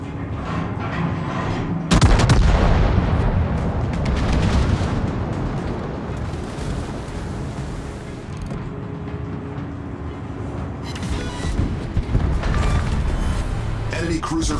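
Heavy warship guns fire at an enemy ship in a naval battle video game, with a loud booming volley near the start followed by sustained rumbling blasts and repeated bursts throughout, with a voice over it.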